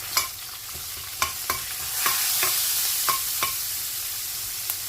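A spice tempering with kokum crackling in a hot pan, sharp spitting pops and stirring clinks repeating irregularly over a steady close sizzle, with no voices.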